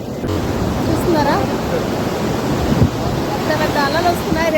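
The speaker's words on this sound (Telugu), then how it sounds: "చూస్తున్నారా పెద్ద పెద్ద అలలు వస్తున్నాయి." Large sea waves at Mahabalipuram beach, with a continuous roar of surf and wind noise on the microphone, as voices talk intermittently over the waves.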